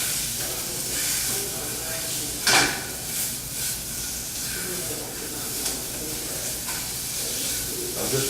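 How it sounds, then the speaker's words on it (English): Sausage sizzling in a pan as it is broken into small pieces, a soft steady hiss with occasional scraping and clinks from the utensil, one sharper scrape in the middle. "just break this up, break up the sausage."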